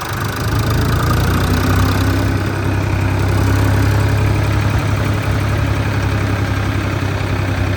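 A tractor pulling a trolley loaded with firewood enters a rural yard, its engine a loud, steady low chugging drone that runs unbroken throughout, close by and with no voices.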